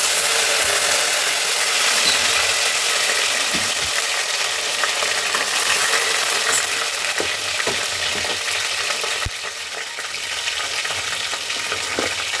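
Bay leaves, spice flower and mint frying in oil in a pan for milmaker pulao give a steady, close sizzle with small crackles and occasional stirring clicks, continuous throughout with no voices.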